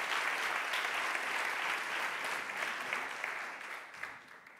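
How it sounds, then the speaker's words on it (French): An audience at a corporate circular-economy challenge event applauds three people, a steady wash of clapping that holds for a few seconds and then gradually thins out toward the end. "On va les applaudir tous les trois, s'il vous plaît."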